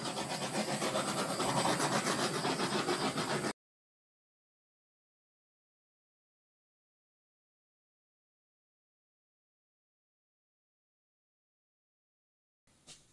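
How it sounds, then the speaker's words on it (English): A torch is passed over wet acrylic paint on a wide canvas about 15 inches by 5 feet: a loud, steady broadband hiss for a few seconds, then it cuts off into silence. "So I'm going to torch."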